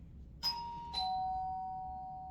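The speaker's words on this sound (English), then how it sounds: "Someone rang the bell." A household doorbell rings indoors, two clear electronic chime tones, the second held and slowly fading, against a quiet room.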